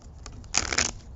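A deck of playing cards riffled and cut during a tarot-style reading, one brisk papery burst of shuffling lasting about half a second between quieter handling taps.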